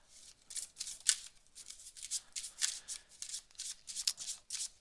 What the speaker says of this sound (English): we could just overhand shuffle